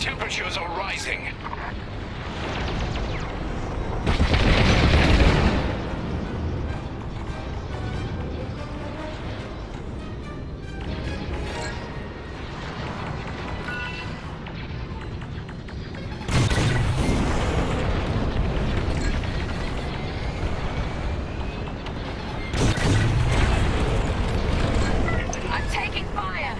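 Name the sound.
explosions of thermal systems in video game Star Wars: Squadrons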